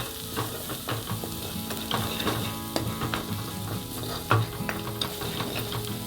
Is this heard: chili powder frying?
yes